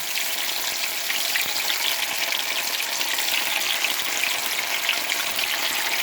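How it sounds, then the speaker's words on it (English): Yuca pieces deep-frying in hot oil until golden, making a loud, dense, even hiss of bubbling and sizzling that continues unbroken with no talking. "Let's throw that yuca in there. Fry him up till golden."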